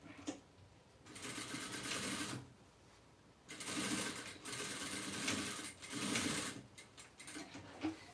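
A domestic sewing machine backstitches an eco bag made from reused fabric, running in several short bursts of rapid mechanical stitching with quiet pauses between them, close and clear.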